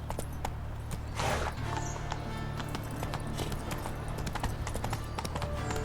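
Hooves of Roach, the horse in The Witcher 3, clip-clopping in a steady rhythm, close and clear over a low droning game soundtrack.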